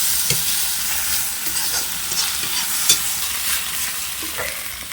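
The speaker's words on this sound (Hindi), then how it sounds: "उबले हुए पत्तों को मैं मसालों के साथ अच्छे से भूनूंगी 2 से 4 मिनट तक" Boiled greens fry with spices, sizzling and crackling steadily in a hot wok, with occasional stirring scrapes, close and fairly loud, no voices.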